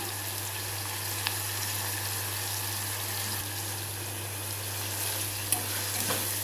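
Turmeric and chili are stirred into curry frying in a pan. The oil gives a steady close sizzle with a constant low hum, and a few faint clinks of the spoon come through.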